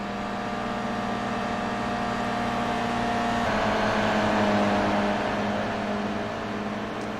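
Toyota GR86 endurance race car lapping Spa-Francorchamps, its engine droning loud and steady from onboard with a rising pitch midway through, no talking.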